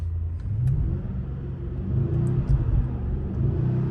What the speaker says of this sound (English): And now if we rev the engine,